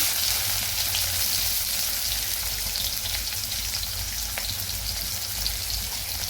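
Onion sizzles and fries steadily in hot oil with cumin while cooking for an okra dish, a dense crackling hiss running throughout at close range.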